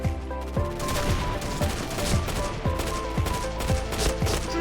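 Rapid gunfire in the shooter game Point Blank, repeated sharp shots in quick bursts with bright metallic clicks, fairly loud and continuous, with no talking over it.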